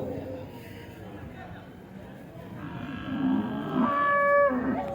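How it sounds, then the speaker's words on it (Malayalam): At a cattle market in Vaniyamkulam, Kerala, a cow lets out a drawn-out moo near the end, rising over low background noise and faint voices. "ഒരു പശുവാ"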